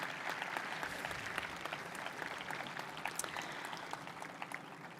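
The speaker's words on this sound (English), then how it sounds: "You can clap for them." Applause for faculty at a 2021 Oakdale High School graduation, a dense wash of clapping from a large crowd, somewhat distant and steady with a few sharper individual claps standing out.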